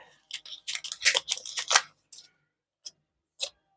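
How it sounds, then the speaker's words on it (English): Scissors snip through planner paper in a quick run of close, crisp cuts, followed after a pause by two isolated single snips. "let's take this one and cut"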